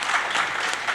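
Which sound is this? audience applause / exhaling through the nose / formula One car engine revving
audience applause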